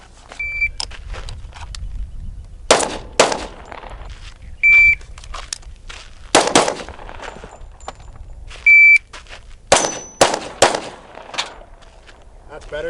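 A Nighthawk Custom Trooper Commander 10mm pistol fires a magazine outdoors, sharp loud shots spaced a second or two apart, each followed by a short electronic beep, with faint talk between.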